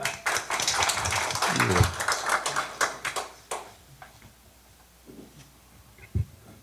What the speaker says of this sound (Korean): 네, 박수 한번 주시죠.